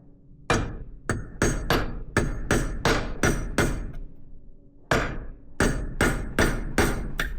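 A hammer strikes a bearing on a bent air seeder spindle in a steady series of sharp metallic blows, about a dozen hits with a short pause midway, close and loud with no talk.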